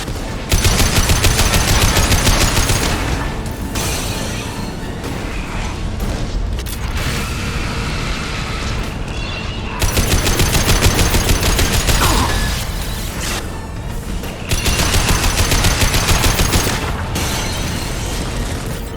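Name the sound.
anti-ship batteries firing at collector vessel in Mass Effect 2 video game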